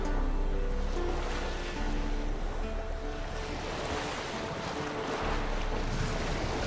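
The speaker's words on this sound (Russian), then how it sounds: "у тебя парус хлопает" A sailboat on open water in the game Witcher 3, waves washing steadily against the hull with wind noise and a low rushing drone, loud and continuous without talk.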